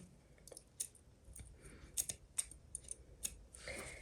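Scissors snipping fabric for a sleeve, a string of sharp, close, quiet cuts spaced irregularly, ending in a longer rustling slice, with no talking.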